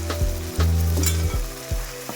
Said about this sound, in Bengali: টমেটো দিয়ে আমরা কষে নিলাম।